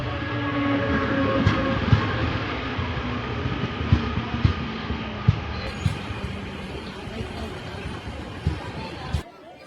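Small three-coach passenger train at Jhansi Junction rumbling nearby with rhythmic clanks and rail clatter, steady and fairly loud, with voices in the background.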